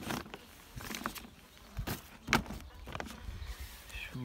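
Native honeybees buzz faintly around a hive entrance, a local strain kept for comparison with Carniolan bees. The hum is soft and low, broken by a few sharp taps and knocks.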